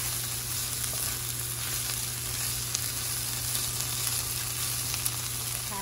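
Paneer frying in a pan with ginger and garlic gives off a steady, even sizzle, close and constant, with faint small pops and no talking.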